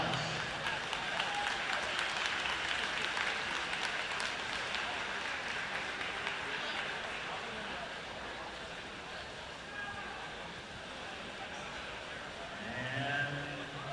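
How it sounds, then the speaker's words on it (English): Applause from spectators at the IHSA boys state swimming and diving finals, a long reverberant round of clapping in a large natatorium, fading somewhat midway with faint voices over it. "Let's give a big round of applause."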